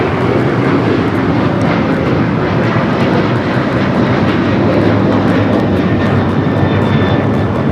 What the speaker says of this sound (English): This 777 is going to be taking off to Dallas-Fort Worth.